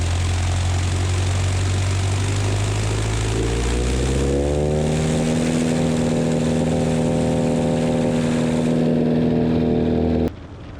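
A small propeller airplane on a grass runway roars through its takeoff run, the engine note climbing steadily in pitch as it accelerates and then holding a loud, sustained drone before a sudden drop at the end.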